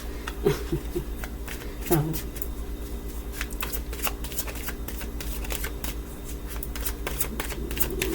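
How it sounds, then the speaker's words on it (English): Tarot cards being shuffled repeatedly in a steady riffling rhythm, with a couple of soft thumps near the start, fairly close. "I was going to lay the cards back out, but I shuffled and kind of lost them"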